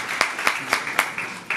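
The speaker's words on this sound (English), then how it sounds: "Please give them a big round of applause." A festival crowd applauds for the artists, a quick run of sharp claps over a bright, steady wash of clapping.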